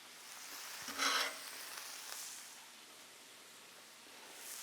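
Plant-based smashburger patties on a Blackstone grill give off a steady, hissing sizzle, with a sharp scrape of a spatula near the start, and no talk.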